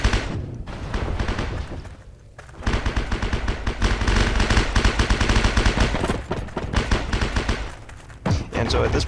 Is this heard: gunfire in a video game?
yes